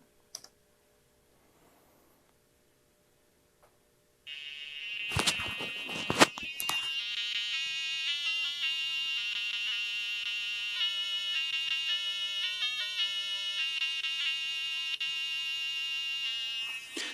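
IBM PC speaker game music from Prince of Persia played on a 2023 Book 8088 retro computer, a shrill, buzzy square-wave melody of rapid beeping tones that starts after a few seconds of silence and runs steadily and loud to the end.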